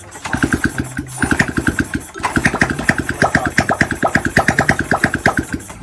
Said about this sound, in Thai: คันนี้ก็สตาร์ทเลย